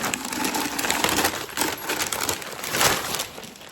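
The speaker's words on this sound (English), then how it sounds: "So I'm just taking it off where they packaged it." A glass see-through vase from HomeGoods is unwrapped from its packaging, giving close crinkling, rustling and light clinking noises in irregular bursts, with no talk.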